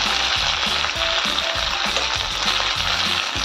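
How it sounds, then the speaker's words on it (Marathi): Poha cutlets fry in hot oil in a pan, a loud continuous sizzle with intermittent scraping and stirring knocks close up. "छान परतून घेऊया"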